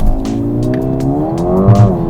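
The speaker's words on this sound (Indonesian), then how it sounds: "Oke, rem udah gue injek, sekarang gue injek gas agresif" A Mercedes-AMG A 35 pulls away under launch control, its engine note climbing steadily through the gears in one continuous loud, close surge of hard acceleration, with a brief tyre chirp near the end.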